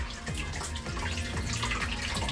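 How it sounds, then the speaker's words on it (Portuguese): Water rushes steadily into a reservoir fed by a pump system after a valve is opened, a continuous close-up splashing flow with no voices. "Então ele só tem este caminho. Então ele vai encher esse reservatório."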